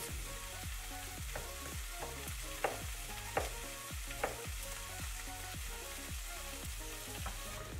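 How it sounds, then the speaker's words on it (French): Courgette pieces sauté in a frying pan with a continuous hiss of sizzling oil, broken by a regular run of clacks and scrapes from a stirring utensil, close and unaccompanied by talk. "Je vais pouvoir faire revenir tout le monde pendant une vingtaine de minutes jusqu'à ce que les courgettes soient cuites."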